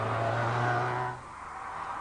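Car fitted with a supercharged Rover 1.8-litre K-Series engine gives a strong, steady engine drone with a clear low tone that drops away abruptly after about a second, leaving a softer whirring hum.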